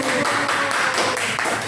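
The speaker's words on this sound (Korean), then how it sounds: "박수!" Children applauding at a kindergarten church service, a brief dense patter of many hands clapping together, fairly close and steady, with no talk.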